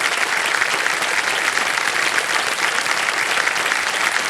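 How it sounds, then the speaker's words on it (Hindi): A studio audience on a game show bursts into dense, loud applause for a contestant's companion, an even, unbroken roar of clapping held throughout. "आपका तालियां बज जाए उनके कंपेनियन के लिए"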